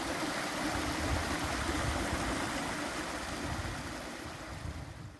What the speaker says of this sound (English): I just found some little waterfalls and little water pockets